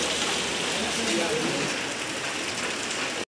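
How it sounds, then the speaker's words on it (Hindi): Heavy rain pours outside a shop, a dense, loud, continuous hiss of drops hitting the surface close by, running unbroken until it cuts off abruptly at the end. "यहाँ बहुत तेज तेज बारिश होने लगा है।"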